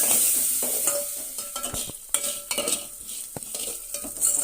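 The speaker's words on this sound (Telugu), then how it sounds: "పచ్చిమిరకాయలు, జీలకర్ర, సాల్ట్, అది కూడా వేసుకుని పచ్చివాసన పోయేదాకా వేయించుకోవాలి" Green chili paste with cumin and salt frying in a pan, a continuous close sizzle with occasional scrapes and taps of a stirring spoon against the metal.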